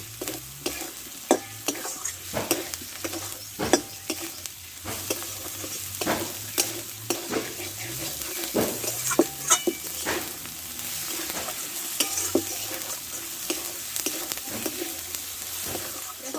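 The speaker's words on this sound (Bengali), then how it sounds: "এবার কষে রাখা কচুটা আমি এতে ঢেলে দেবো একসঙ্গে ভালোভাবে কষে নিব" Taro tossed with spices in a pan while cooking a spicy fish curry, the steady sizzle of frying broken by repeated scraping and stirring knocks of a spatula, close and fairly loud with no talk.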